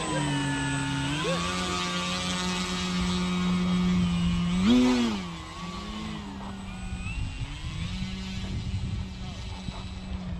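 An FMS Pitts 1400mm model airplane taxis out, its motor a steady whine that rises and dips in pitch with a brief louder surge midway, while voices talk over it.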